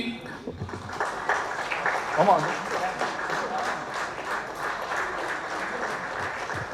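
Steady crowd applause rolls on throughout a Tamil stage program, with a voice talking over the clapping at moderate loudness.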